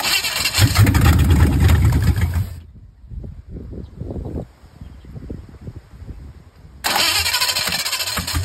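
A Chevrolet C10 truck with a swapped engine cranks and fires up loudly, runs briefly, cuts out to sputtering quieter sounds, then roars back to life and keeps running.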